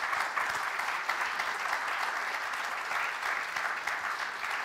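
Audience at a panel discussion on generational perceptions of threats claps steadily, a dense sustained round of applause from a room full of people, fairly even in loudness throughout.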